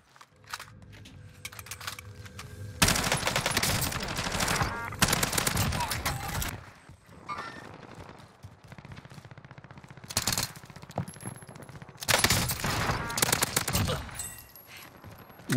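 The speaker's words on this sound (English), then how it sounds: "I'm getting shot from behind." Automatic rifle fire in the Warzone video game, with a FARA 83 in use: loud bursts of rapid gunshots come in several long volleys, and quieter game ambience and distant shots fill the gaps.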